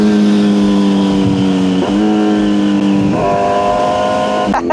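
A vehicle engine runs steadily at a raised idle and steps up in pitch twice as the throttle is blipped, ending with a sharp pop like a backfire. It is loud, close and continuous, with no talking.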